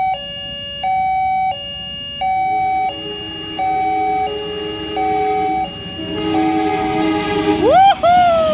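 Level crossing at night on Indonesian rail: an alternating two-tone crossing warning bell rings in steady repeating bursts, then a train rumbles in and its horn blares loudly near the end.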